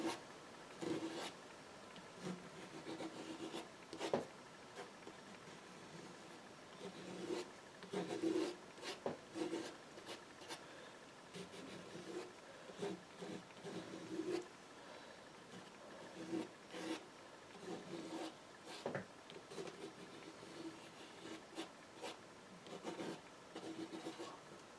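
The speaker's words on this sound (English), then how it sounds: "Just see if I can scrape out." Scraping at half-dry wood gives repeated rough rasping strokes in irregular bursts, close and moderately loud, continuing for around twenty-five seconds without speech.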